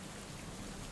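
Steady, dense rain pours in an Unreal Engine 5 game scene, a constant even hiss of drops on wet surfaces with no voices.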